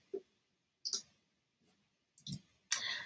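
A computer mouse clicking a few times at an office desk, sparse, faint, sharp clicks separated by quiet gaps.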